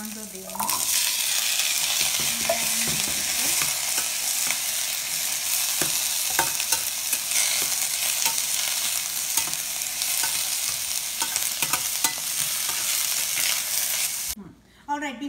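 Chickpeas sizzle steadily in a pan with cooked onion while a utensil stirs them through, loud and continuous frying throughout, then the sizzle cuts off abruptly near the end.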